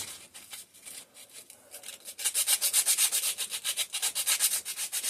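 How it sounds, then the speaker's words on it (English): Sandpaper rubs back and forth on the steel of a 5hp Briggs and Stratton engine part, a few soft strokes at first, then a quick run of rhythmic, close, raspy scrapes. "And now I'm going to go at it again with some sandpaper."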